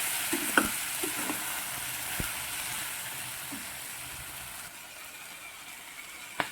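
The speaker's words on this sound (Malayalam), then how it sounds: "ഇതൊന്ന് ചേർത്ത് ഇതിൻ്റെ പച്ച മണം മാറുന്നവരെ നമുക്കൊന്ന് ഇളക്കി കൊടുക്കാം." Garam masala and coriander powder frying in a pan for vegetable kurma give a soft, steady sizzle, broken by a few light scraping stirs and clicks of a spoon against the pan.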